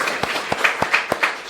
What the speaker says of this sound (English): if we clap loud enough